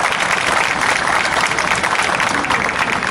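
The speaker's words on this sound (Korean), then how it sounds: "전국 각지에서 함께 해주시는 시민분들께 다시 큰 박수 부탁드립니다." Crowd applause at a memorial rally marking 500 days since the Sewol ferry disaster, a dense continuous wash of clapping from many people that holds evenly from start to finish, with no voices over it.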